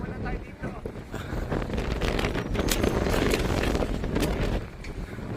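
Gusty wind rumbles and blasts across the microphone by a cable car station, loud and near, rising and falling in strength while a person speaks beneath it.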